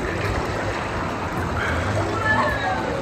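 Waves surging through the Fearless River lazy river at Universal Orlando's water park, a steady close wash of churning water mixed with crowd noise.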